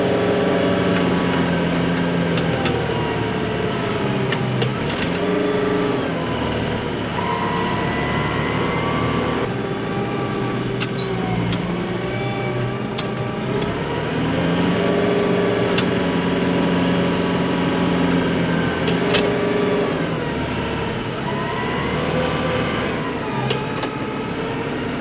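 Vehicle engine roars steadily at full power while pushing through a six-foot snow drift during a snowstorm in below-zero weather, a continuous loud drone with shifting tones and no talk.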